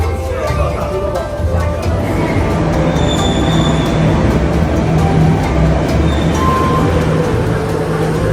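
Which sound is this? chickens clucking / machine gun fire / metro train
metro train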